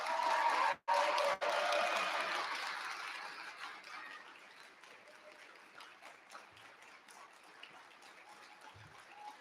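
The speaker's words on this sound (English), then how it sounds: "One more round of applause for our finalists." Applause for senior finalists at a regional science and engineering fair, a burst of clapping that starts strong, is briefly cut, then fades into softer scattered claps and room noise.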